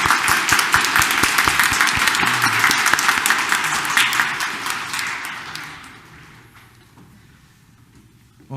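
Audience applause fills a Catholic church during a New Year's Day Mass for the Solemnity of Mary, Mother of God, at a Korean parish in Detroit: dense, close clapping that slowly dies away over the last few seconds.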